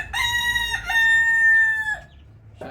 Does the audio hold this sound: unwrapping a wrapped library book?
no